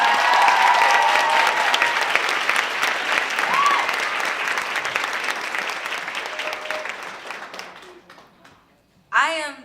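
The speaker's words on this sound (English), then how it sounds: "Please give a huge round of applause for Katherine Murillo." Loud, sustained applause from a large audience at a women's empowerment expo panel in Los Angeles, gradually fading out near the end, followed by a brief burst of voices.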